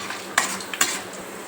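Peanuts and chana dal frying in a pan, a brief stretch of sizzling with a couple of sharp scraping stirs of a spoon, close and fairly loud.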